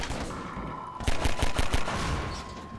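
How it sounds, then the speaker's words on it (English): Gunfire in the Synergy mod for Half-Life 2: a rapid burst of loud, close shots firing in quick succession over steady background game noise, then fading back to ambient sound. "Shoot it. Shoot the barrel."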